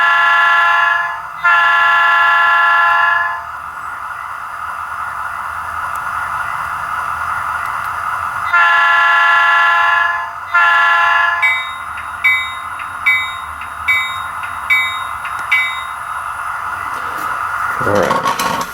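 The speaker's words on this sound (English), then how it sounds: "this particular locomotive has a Leslie on it." Model diesel locomotive with a Railpro sound system and a Leslie horn: a steady engine rumble with the horn blowing in two long blasts, then a series of short repeated toots, close and loud.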